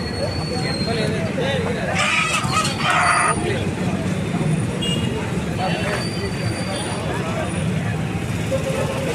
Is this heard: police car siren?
no